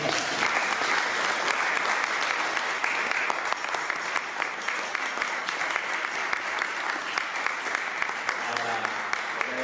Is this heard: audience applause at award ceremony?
yes